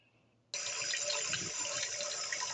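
Kitchen tap switched on to rinse a plate, water gushing in a steady full stream into the sink, close and loud, starting abruptly and running on.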